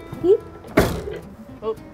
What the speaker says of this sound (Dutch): Doe de deur open, we zijn er!